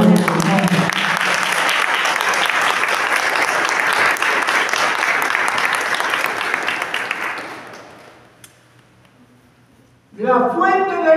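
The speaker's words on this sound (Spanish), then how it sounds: "Den un aplauso al Señor" A church congregation claps loudly and steadily for about eight seconds before the applause fades to near silence, then a voice begins talking at the end.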